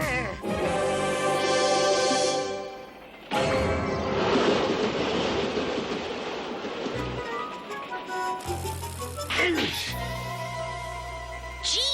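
A cartoon train rumbles along steadily with a rushing rattle of wheels on track, loud and close, while characters talk over it and tones sound at moments.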